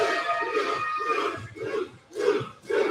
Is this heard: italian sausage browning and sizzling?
no